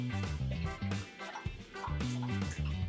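Dog making short, repeated yips and whimpering barks indoors, fairly faint, in bursts with brief pauses between.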